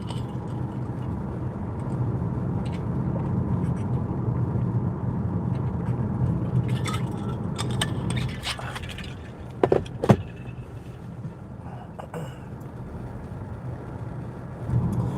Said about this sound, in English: this car seems to be a bit noisy.